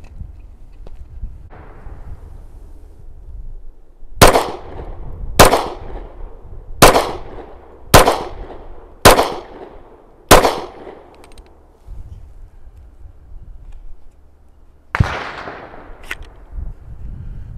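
A Glock 36 subcompact .45 ACP pistol fires six sharp, loud shots in a steady rhythm, followed by another shot after a pause. The shots ring out over quiet outdoor ambience.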